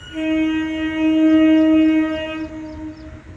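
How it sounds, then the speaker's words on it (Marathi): A morning passenger train from Panvel pulls into Bhiwandi railway station, its loud sustained horn blaring steadily for about three seconds before tapering off, with a low rumble of the rails underneath. "पनवेलची आली सकाळची गाडी ही"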